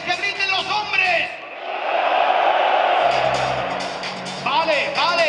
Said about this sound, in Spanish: ¡Vamos a hacer un grito de hombres! ¡Que griten los hombres!